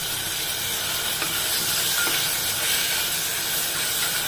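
Onion and ground masala paste sautéing in a pan, a loud, steady broadband sizzle hissing continuously from start to finish with no pauses.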